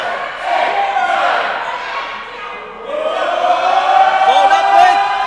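A wrestling crowd roars in support of Tyler Tirva during a live match, a loud swelling wall of cheers and shouts that dips briefly and rises again, with commentary talking over it.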